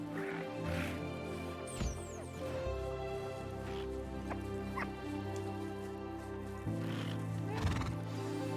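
A video game thestral foal whinnies in short, separate calls over a steady background hum, with occasional soft thuds like hooves.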